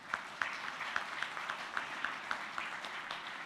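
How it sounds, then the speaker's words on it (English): Audience applause for dignitaries, partners and supporters at the Global Peace Convention 2013 plenary session, a steady patter of clapping filling the hall with scattered sharper claps throughout, moderately loud and without speech. "Give them all a round of applause."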